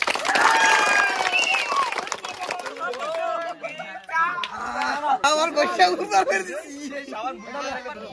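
A crowd claps and cheers for the winner of a village soap-rubbing game challenge, loose applause mixed with excited chatter and overlapping shouting voices throughout.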